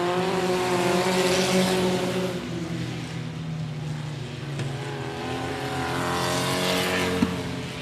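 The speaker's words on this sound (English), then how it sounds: "Prater grabbing another gear in the 0. Peeks to the inside of Keeble down the back chute. Has to hit the brakes." Race cars at 105 Speedway roar continuously around the track, engine harmonics rising and falling as they shift gears and brake into a turn, loud and close throughout with no talk.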